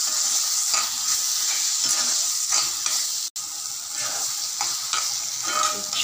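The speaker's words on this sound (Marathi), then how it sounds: "त्याच्यामध्ये काळी तिखट मी छान मिक्स करून घ्यायचं आहे." Mutton gravy with red chilli powder being stirred in a pan, a steady hiss of sizzling under repeated scraping strokes of the spoon, close and continuous, with one brief dropout partway through.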